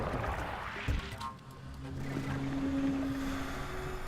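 Water being moved in the god game From Dust, a continuous rushing, sloshing wash of flowing water at moderate level with some tonal game effects over it.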